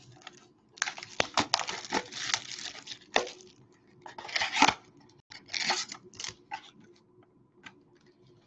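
Scissors snip and crinkle through the plastic wrap and cardboard of a 2019 Topps High Tek trading card box, close and fairly loud in irregular bursts of cutting with short pauses between.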